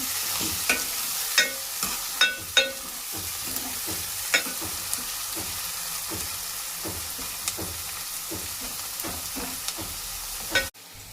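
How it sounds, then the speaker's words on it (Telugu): Onions fry in hot oil until golden brown, a steady close sizzle punctuated by repeated sharp spatula clicks and scrapes against the pan, with no talk. "ఉల్లిపాయలు అలా గోల్డెన్ బ్రౌన్ కలర్లో వచ్చేదాకా వేపేసుకుంటే"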